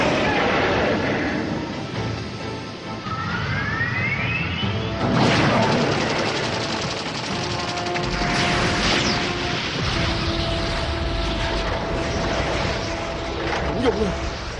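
Laser cannon blasts aimed at a dinosaur's legs in an Ultraman Tiga battle scene, a rising zap followed by a loud crashing impact and rumbling explosions, dense and close, with dramatic music and voices underneath.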